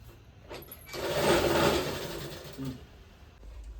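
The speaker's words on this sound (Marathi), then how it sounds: "ह्याला आता मी असं मधोमध टीप मारणार आहे." A sewing machine runs a stitch down the middle of a folded saree being made into a quilt, whirring steadily and close for about two seconds before slowing and stopping, with no talk.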